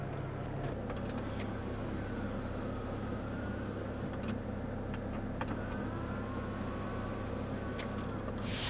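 An electric rear window shade in a car hums steadily as it moves, a quiet motor drone with faint mechanical ticks, heard up close inside a still cabin.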